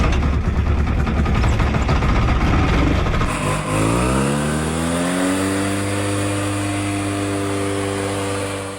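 An abandoned hovercraft's engine runs on water after twenty years of disuse, first as a rough, loud roar, then settling into a steady, droning hum with no voices.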